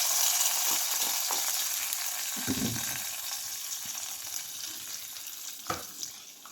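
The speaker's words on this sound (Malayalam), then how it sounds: "പൊട്ടിയ കടുക് നമുക്ക് ഈ എരിശ്ശേരിയിലേക്ക് ഒഴിച്ച് കൊടുക്കാം." Mustard seed tempering poured into a drumstick erissery, giving a loud steady frying sizzle with a few stirring clatters and short crackles, and no voices.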